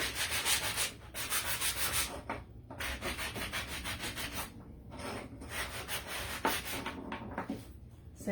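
Wood being sanded by hand on a distressed Christmas decor box, a steady rasping rub in repeated strokes with brief pauses, close and fairly loud, no talking.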